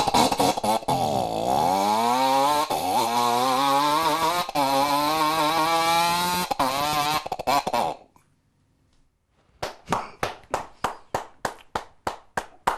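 A man imitates a Yamaha 125 motorcycle with his voice, producing a loud, buzzing engine drone that rises and falls as if revving and shifting gears for about eight seconds. A pause follows, then a crowd breaks into rhythmic applause.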